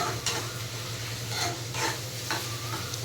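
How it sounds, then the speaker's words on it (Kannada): Onions frying in a pan for an egg masala, giving a dense, steady sizzle with several soft scraping strokes of a spoon at irregular intervals, close by and fairly loud. "ಈರುಳ್ಳಿ ಫ್ರೈ ಆಗ್ತಿರೋದು ಗೊತ್ತಾಯ್ತು."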